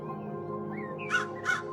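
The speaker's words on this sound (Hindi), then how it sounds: "उन दोनों के जाते ही कालू कौवा मीनू मौसी के घोंसले के बाहर आ जाता है।" A cartoon crow caws twice in quick succession, two short, loud, nasal calls near the end over a steady soft background.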